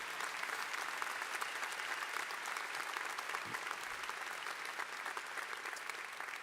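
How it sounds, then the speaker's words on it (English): Sustained applause from a large crowd at an engineering school commencement ceremony, steady clapping throughout with no pauses, somewhat distant. "Let's have a round of applause for them as well."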